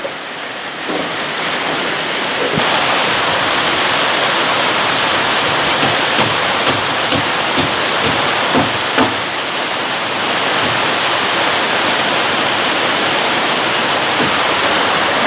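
Heavy rain pours steadily outdoors around a cabin under construction, a dense continuous wash of loud broadband hiss with scattered drips and taps standing out, and no talking.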